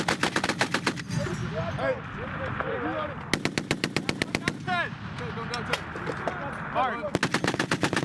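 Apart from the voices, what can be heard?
marines firing machine guns on a range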